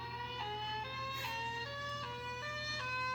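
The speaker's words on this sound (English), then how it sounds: "the alternating wail, which kind of mixes the high-low with the attack mode" A loud alternating wail from a St. Paul Thunderbolt 1003 tornado siren, rising and falling in repeating steps, continuous and close, with a low hum underneath.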